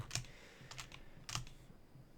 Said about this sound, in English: right now I'm just using my, keyboard and mouse